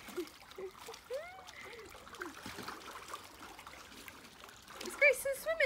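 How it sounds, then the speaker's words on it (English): Water splashes over a child in a pool, with bursts of splashing near the end amid lively voices and chatter. "I'm going to splash some water over Ruby because she's got her head under the water"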